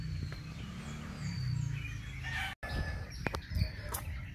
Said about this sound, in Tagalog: maririnig natin mga huli ng ibon para nitong nasa probinsya